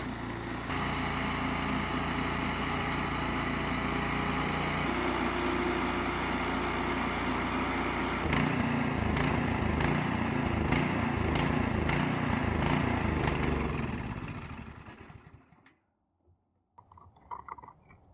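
A snow blower's small gas engine runs loud and steady, its rough chugging changing pitch partway through, then sputters, cuts out and falls silent as the tank empties, with a few faint knocks afterward.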